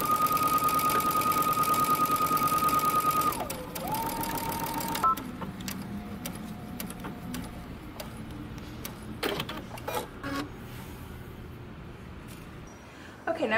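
A sewing machine runs a fast, steady whir while stitching a jumpsuit seam, then stops abruptly partway through, followed by quieter fabric handling, clicks and small knocks, all fairly close.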